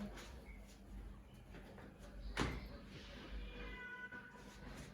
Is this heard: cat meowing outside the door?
yes